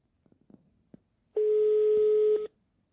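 A phone busy tone sounds in the Pikabuu horror video game, one steady electronic beep lasting about a second, preceded by faint scattered clicks and quiet voice fragments.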